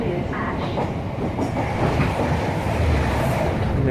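A Great Western Class 166 train passes on the line near Wanborough, heard from aboard another train as a continuous loud rail rumble with rhythmic wheel clatter, steady for several seconds.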